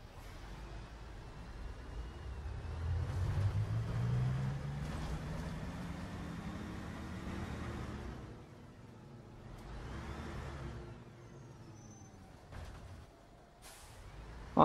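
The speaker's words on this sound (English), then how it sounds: "I like to rev the engine as well." Bus engine in the OMSI 2 bus simulator game, a steady low drone that swells and rises in pitch as it revs, easing off midway and building again, heard alone without talk.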